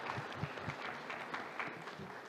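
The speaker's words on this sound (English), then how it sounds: "One more round of applause for Joanne." An audience at a Dyslexia Awareness Day townhall panel applauds, a soft, fairly distant patter of steady clapping with no voices.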